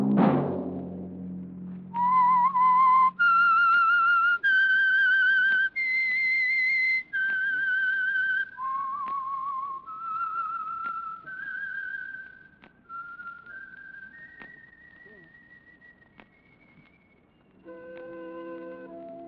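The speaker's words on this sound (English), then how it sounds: "Let that whistle be your signal for the Signal Oil program, The Whistler" A radio show's eerie theme melody is whistled alone. It runs as a series of clear, sustained pure notes that rise and fall in pitch, then trails off softly before a brief instrumental chord.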